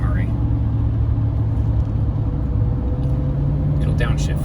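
A Duramax LML diesel truck engine works under the exhaust brake around 1500 rpm, giving a steady low rumbling drone with a droning tone, while someone talks over it throughout.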